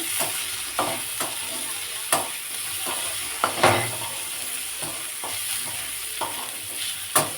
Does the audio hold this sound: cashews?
yes